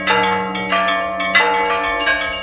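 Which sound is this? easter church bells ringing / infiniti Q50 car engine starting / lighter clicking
easter church bells ringing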